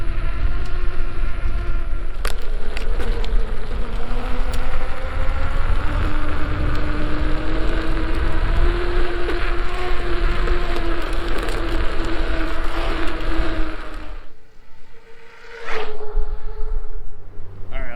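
A Sherman S electric unicycle ridden outdoors on a range ride, with a continuous whining motor tone that shifts pitch with speed over wind rush, dropping away briefly near the end before resuming.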